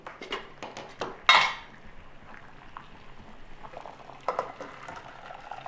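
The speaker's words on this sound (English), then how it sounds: "you're going to have a small pan of water boiling" A small pan of water boils with chestnuts in it, giving a soft bubbling patter with sharp clinks of metal cookware, including one loud clatter early on and a few lighter knocks later.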